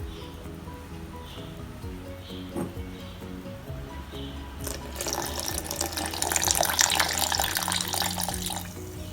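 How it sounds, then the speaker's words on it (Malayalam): Chilled milk pours from a container into blended dry fruits in a blender jar, a steady liquid splash that starts midway and swells, close and fairly soft over faint background hum. "ഇനി ഇതിലേക്ക് നല്ല ചിൽഡ് മിൽക്ക് ചേർക്കാം."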